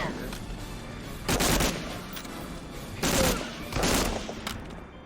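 Machine gun fire in the video game Medal of Honor Allied Assault comes in three short, dense bursts of rapid shots over a steady background of game noise.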